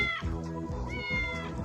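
A cat on the grounds of the Hemingway House in Key West meows several times in quick succession, close and clear.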